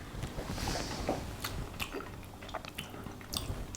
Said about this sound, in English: One more final go. here on this steak with the Café de Paris butter.